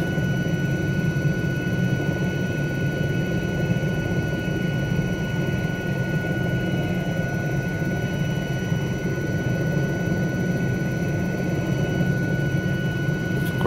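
A helicopter in Microsoft Flight Simulator 2020 holds a steady, loud, droning rotor and engine roar with a constant whine, unbroken and near, with no talk.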